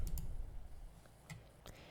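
A few soft, isolated mouse clicks tick at irregular intervals over a quiet low background hum, while confirming edits in cabinet design software.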